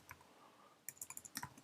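Quiet computer keyboard typing: a single tap, then a quick cluster of soft key clicks near the end, close and faint with no talking.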